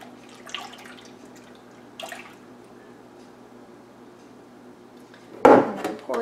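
Milk and whey are stirred in a home kitchen: a few soft scraping swishes, then a louder clattering knock near the end, over a quiet background.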